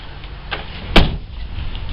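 The door of a Holden VS Commodore swings shut with one solid, close thump, followed by a faint rattle and quiet background hiss.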